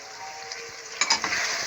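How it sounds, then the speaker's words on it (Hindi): Finely chopped tomatoes and green chilies frying in a pan give a steady close sizzle, and a brief clatter of stirring comes partway through. "थोड़ा सा हम इसे भून लेंगे"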